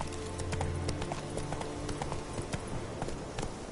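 Roach, a horse in The Witcher video game, clip-clops steadily at a walk, with hoofbeats close and even over a low background bed.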